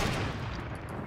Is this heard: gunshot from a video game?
yes